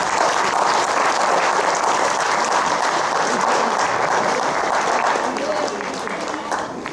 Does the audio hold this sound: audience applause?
yes